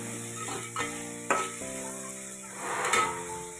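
Salted okra stir-fried in a pan for a home-style bhindi bhaji sizzles steadily, with scraping stirring strokes and light utensil clatter close by, under soft sustained musical tones.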